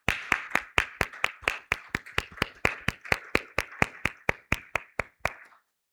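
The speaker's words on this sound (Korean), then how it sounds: "우리 박수로 환영하시겠습니다" Congregation at a Korean church Sunday service clapping in welcome for newcomers: about twenty sharp, evenly spaced claps in a steady rhythm, close and clear, stopping abruptly near the end.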